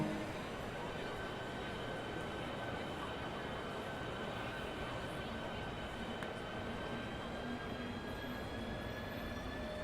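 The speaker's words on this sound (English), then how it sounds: "let's get this train moving" High-speed Southeastern train pulling out of St Pancras International in Train Sim World 2, a steady loud rumble of motor and rails with faint whining tones, continuous and even throughout.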